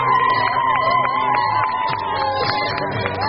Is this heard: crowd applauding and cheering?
yes